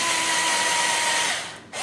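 A hand drill bores through a quad lug, a steady loud whine that holds level and then tapers off near the end.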